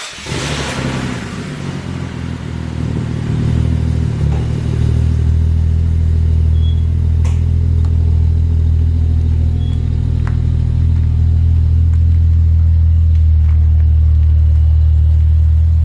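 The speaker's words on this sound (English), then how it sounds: "now we're going to address the very noisy, deafening, disgusting exhaust" A Ford FG Falcon engine idles close by with a loud, deep rumbling exhaust that builds after a couple of seconds and holds steady, droning throughout.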